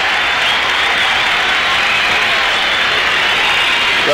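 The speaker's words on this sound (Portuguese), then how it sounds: "bastante aplaudidos os jogadores brasileiros" A stadium crowd at a 1997 Copa América semi-final between Brazil and Peru applauds Brazilian players being substituted, a loud, steady wash of clapping and crowd noise with no pauses.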